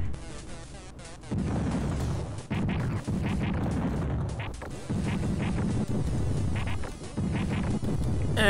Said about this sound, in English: Mysterious space chicken.